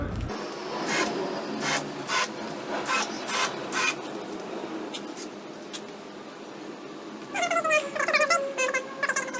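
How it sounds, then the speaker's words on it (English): A countersinking drill bit cuts into pallet wood while building a couch, giving a series of short, sharp grinding bursts up close, with a brief higher whirring passage toward the end. "I'll just countersink them a little bit just by using a countersinking"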